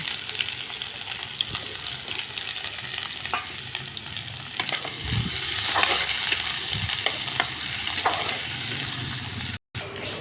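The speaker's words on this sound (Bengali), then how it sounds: "তেল ভালো করে গরম হয়ে গেছে, এবার কেটে রাখা পেঁয়াজ দিয়ে দেব।" Chopped onions sizzle and crackle steadily in hot mustard oil, a continuous frying hiss with occasional scraping, close by and without any talk.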